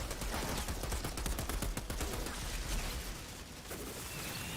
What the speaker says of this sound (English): this machine gun doesn't shoot terribly fast